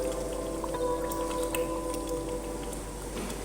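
Water is poured into a pot of Karachi-style chicken biryani masala, making a steady, continuous splashing and gurgling rush that stays even in loudness for the whole stretch, with no talking.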